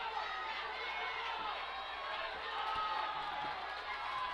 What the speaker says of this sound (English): Bearcat bench trying to get the crowd to make a little bit of noise here